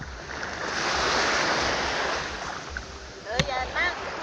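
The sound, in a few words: sea waves splashing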